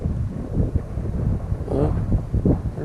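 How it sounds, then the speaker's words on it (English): A 12 mph wind buffets the microphone while fishing outdoors, producing a steady low rumbling gust noise throughout, with a brief voice partly heard under it. "It's 12-mile-an-hour wind right now"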